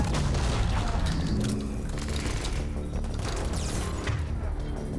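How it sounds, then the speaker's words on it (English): Rapid gunfire and heavy blasts from combat in Mass Effect Legendary Edition, a dense, loud barrage of shots and booms that runs continuously throughout. "Why do I feel like I'm the only one shooting this guy?"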